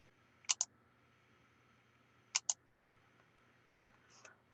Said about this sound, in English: Let's go to the next page by clicking on the blue arrow.